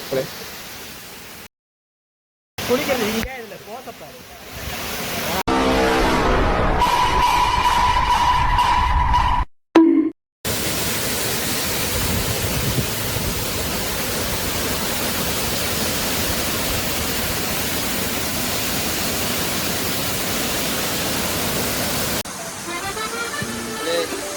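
Kadappara waterfall in Palakkad roaring as a dense, steady broadband rush close by, with a few brief cuts and bursts near the start before it settles into continuous loud noise.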